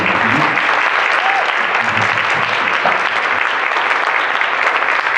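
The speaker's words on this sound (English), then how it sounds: "please give a round of applause and thanks to everyone" Sustained applause from a seated audience at the close of a school leadership talk, a dense, even wash of clapping held steady at full loudness throughout.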